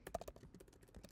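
Rapid, quiet typing on a computer keyboard, about a dozen close, crisp key clicks in an uneven burst with no talking, while text is entered for a web page.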